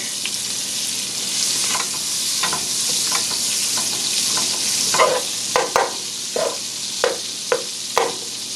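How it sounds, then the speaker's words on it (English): Onions sizzling in a pan for a Vietnamese chicken ragu: a steady close frying hiss, joined after the midpoint by a run of sharp spatula taps and scrapes. "I'm not going to cook my onions for long"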